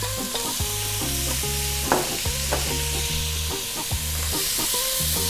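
Tenderised beef and beef tripe sautéing in a hot pan for Filipino goto, with a steady loud sizzle and a few clacks of a utensil stirring through it, while music plays underneath.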